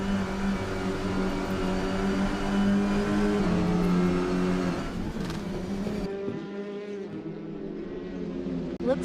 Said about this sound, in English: They're riding the curbs and pushing the car to its limits.